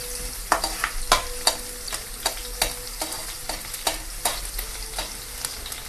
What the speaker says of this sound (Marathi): हे थोडंसं लसण असं लाल होईपर्यंत फिरवून घेऊया